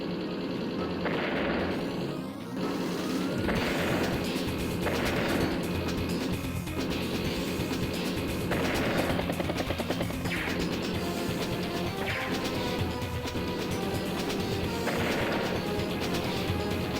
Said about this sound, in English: Good strike there on that battlecopter.